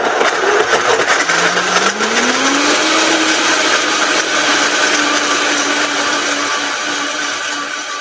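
A kitchen blender runs continuously with a loud, steady whir whose pitch climbs as the motor gets up to speed, then holds level. No one speaks.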